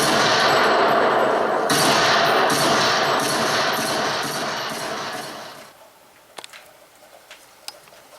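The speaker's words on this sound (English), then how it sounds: "you, Sir Nicholas Markle, are sentenced to death by firing squad" A film's firing-squad execution erupts in loud, dense, continuous rapid gunfire that fades out over several seconds, leaving a few sharp isolated cracks in the quiet afterward.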